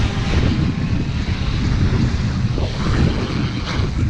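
A Seahorse REVO4 fishing drone's motors drone steadily as it comes down to land at a windy beach, a continuous broadband whir heavily mixed with wind buffeting the microphone.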